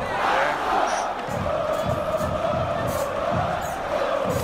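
A football crowd shouts and roars continuously at a steady, loud level, a dense wall of voices from many fans throughout.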